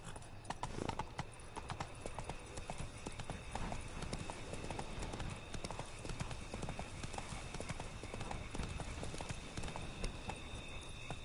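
Roach the horse trots through Witcher 3, hooves clip-clopping in a steady, quick rhythm at close range for the whole stretch, with game ambience beneath.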